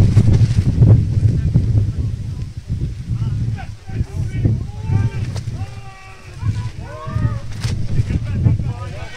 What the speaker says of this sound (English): It's a bit windy here. If you can hear the wind in the background